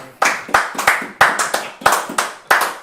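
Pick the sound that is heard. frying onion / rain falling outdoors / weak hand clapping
weak hand clapping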